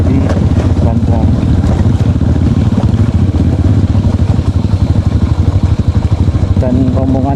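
A motorcycle rolls slowly along a rough road, engine chugging low under heavy wind buffeting on the microphone, with another motorcycle riding alongside.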